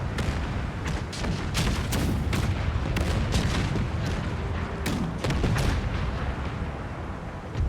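Massed artillery firing in Empire 2 Total War, a rapid irregular series of booming shots overlapping one another, loud and dense with no break, no talk.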